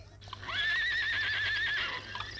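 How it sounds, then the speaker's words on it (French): A horse neighs in an old theatre recording of a farmyard scene from the 1910 premiere of Chantecler: one long, wavering whinny rising then trembling steadily before fading, over faint background hiss. "Le vieux cheval piétine."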